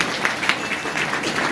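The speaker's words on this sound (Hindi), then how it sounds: "ताली बजा दो एक बार इनके लिए।" Seminar audience applauding together, a steady broadband wash of clapping that fills the short stretch evenly at moderate level, with no talk over it.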